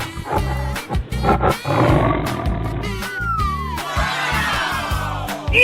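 A tiger roars in an animal slide video game. The growling roars are loud, swell in strength and overlap with game music and crowd-like noise.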